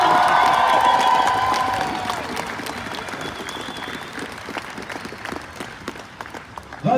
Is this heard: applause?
yes